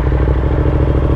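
A 2022 Yamaha R7 sport bike fitted with an aftermarket Yoshimura exhaust with carbon fiber parts idles and revs close by, a loud, steady, throbbing engine note with no talking.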